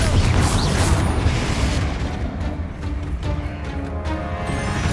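A Confringo explosive spell blasting in the Hogwarts Legacy video game on PC: a loud, dense booming burst with rumbling low end and crackling debris, sustained throughout without pause.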